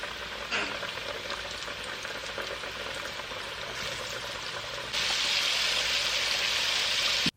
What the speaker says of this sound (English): I also like to fry the breast and the wing together